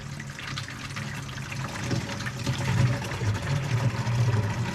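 Water pours steadily from a watering can onto a garden bed, a continuous close splashing that swells slightly toward the end.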